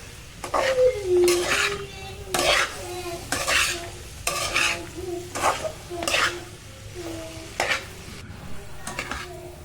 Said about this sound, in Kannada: ಮಧ್ಯಮ ಉರಿಯಲ್ಲಿ ಫ್ರೈ ಮಾಡ್ಕೋಬೇಕು ಸ್ವಲ್ಪ ಮಧ್ಯ ಮಧ್ಯದಲ್ಲೇ ಕೈ ಆಡಿಸುತ್ತಾ ಚೆನ್ನಾಗಿ ಫ್ರೈ ಮಾಡಬೇಕು